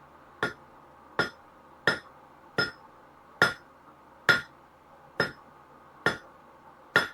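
Hot nails being forged on an anvil, nine sharp ringing hammer blows at an even, unhurried pace, close and loud, with no talking between strikes.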